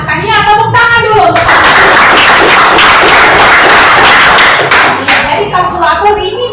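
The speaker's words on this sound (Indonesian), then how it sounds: "Ya, tepuk tangan dulu" A classroom of children claps in a dense burst of applause lasting a few seconds, with a teacher's speech before and after.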